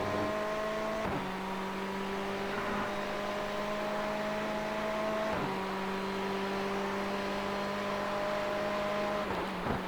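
A Ferrari race car engine in iRacing at Le Mans holds a steady high whine in third gear, with brief dips at each upshift, droning on evenly throughout.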